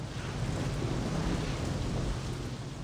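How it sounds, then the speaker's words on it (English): Steady rain and rumbling thunder in the video game Saints Row, a dense, loud continuous wash of downpour with deep low rumble running throughout, no voices. "it is still raining, which is really nice."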